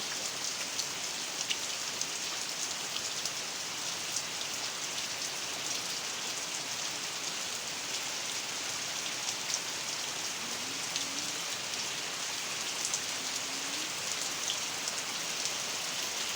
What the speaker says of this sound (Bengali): দেখো বাইরে কি বৃষ্টি পড়ছে এই ঝমঝম ঝমঝম করে বৃষ্টি